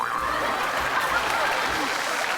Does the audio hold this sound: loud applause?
yes